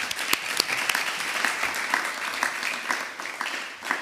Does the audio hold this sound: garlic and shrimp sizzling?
no